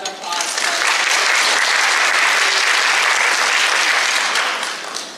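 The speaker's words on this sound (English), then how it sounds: "I'd like to give her a round of applause" Sustained, dense applause fills a hall at an event celebrating women and leadership, swelling quickly, holding steady and loud for several seconds, then tapering at the end with no talking.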